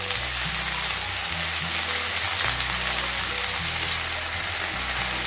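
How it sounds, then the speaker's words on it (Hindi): Garlic-ginger paste frying with onions in a hot pan for a kebab masala gravy, giving a steady, loud, dense sizzle that runs throughout alongside a low hum, with no talk. "इसमें हम डाल देंगे 1 टेबलस्पून लहसुन अदरक का पेस्ट और इसको भी फ्राई कर लेंगे अच्छे तरीके से।"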